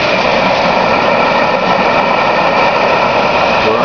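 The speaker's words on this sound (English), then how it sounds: "We added this protein skimmer. It basically sucks its air in up there." A homemade protein skimmer on a tilapia farm draws in air with a steady, loud hiss and hum, unbroken and close, with no talk over it.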